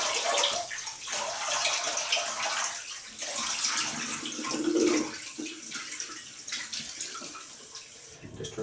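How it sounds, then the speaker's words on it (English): Steady running water from a tap for a quick cold rinse after shaving, a continuous close splashing flow with slight gurgles, no voices. "Let's have a quick cold rinse."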